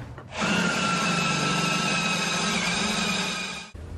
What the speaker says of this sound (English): The fuse box attaches to the pedal box and the firewall, so we had to do some drilling and some riveting.